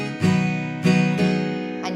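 Guitar strummed quickly in a down, down, up pattern on chords from a song's progression, three crisp strokes close up with ringing strings between.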